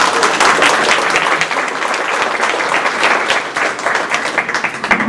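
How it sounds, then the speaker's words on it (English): A gala crowd at the Botham Jean Foundation Red Tie Gala gives loud, dense, sustained applause. "Let's give him a round of applause."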